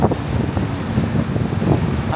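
Wind gusts across a seventh-floor hotel rooftop pool deck in Brisbane, Australia, a steady broadband rush with rumbling buffets against the microphone, continuous and fairly loud with no talk.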